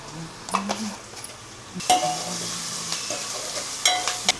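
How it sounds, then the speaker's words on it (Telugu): Masala paste of ginger and turmeric frying in a pan for a sea fish curry: an even sizzle with intermittent spoon scrapes and a few metallic clinks against the pan, close by. "ఇది మసాలా పేస్ట్ వేస్తున్నాను"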